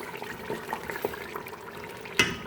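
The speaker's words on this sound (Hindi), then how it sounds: "अब हम पानी शामिल करेंगे।" Water being poured into a pot of beef paya curry after the trotters are browned over a medium flame, a short soft trickle and splash with small bubbling pops and a brief louder splash near the end.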